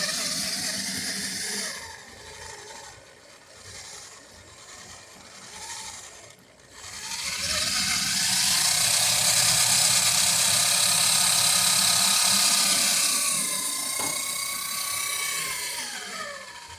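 A power tool bores and cuts into wood while a centerboard mechanism is installed on an Alpha Dory boat, a loud grinding whir that slows and surges, then runs steady and strong before easing off, with no talking.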